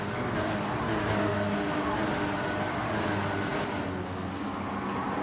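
Porsche Cayman Cup race cars lapping Dragon Trail Gardens in a racing video game, a steady loud engine drone with shifting pitch that holds continuously throughout, with no talk over it.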